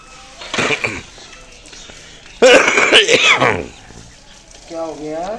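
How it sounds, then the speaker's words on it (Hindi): One person gives a short harsh cough, then a loud, rasping burst of throat clearing close to the microphone, followed by a brief voiced sound. "खांसी हो रही है यार बहुत ज्यादा"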